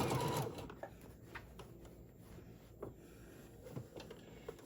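Sewing machine stitching the sides of a handmade stuffed bear, a quiet mechanical whirr broken by short bursts of stitching and light clicks, close by and without talk.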